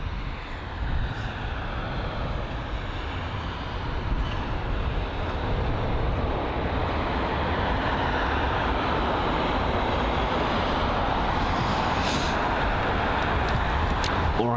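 American Airlines Boeing 777-200 at London Heathrow, a steady, loud broadband engine roar that holds for the whole stretch without breaks, heard from close by on the airfield.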